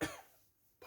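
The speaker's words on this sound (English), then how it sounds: "Apologies, didn't mean to cough there." A single short cough at the start of a pause in a spoken album review, fairly close, followed by near silence and a faint breath at the end.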